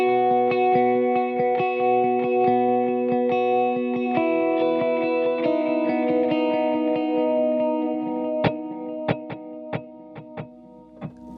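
Electric guitar notes ringing through a delay effect, repeats tumbling in a galloping rhythm, ending with a few sharp plucked notes echoing alone.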